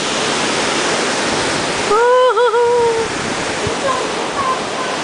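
Ocean waves below a cruise ship cabin make a steady, loud rushing wash, with a brief voiced exclamation rising over it midway.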